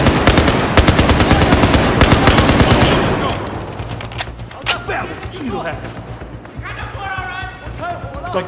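Rapid machine gun bursts from Battlefield 4 gameplay, dense and loud in the first three seconds, then scattered distant gunfire and shots under an excited voice.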